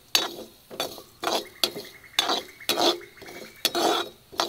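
Coriander and cumin seeds roasting in a pan for tomato saaru, stirred with a utensil: a steady run of scraping, clinking strokes, each about half a second apart, close and fairly quiet, with no talking.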